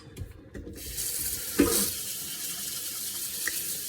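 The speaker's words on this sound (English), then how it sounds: "so I'm going to rinse them in the sink." Tap water runs into a sink, rinsing soaked dried black beans, a steady close splashing rush with a few brief clatters at the start.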